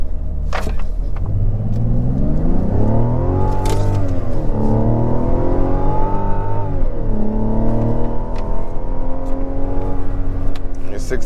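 Turbocharged 2024 Mazda CX-90 SUV accelerating hard, engine note rising and falling through gear shifts as a steady rumbling drone, heard from inside the cabin.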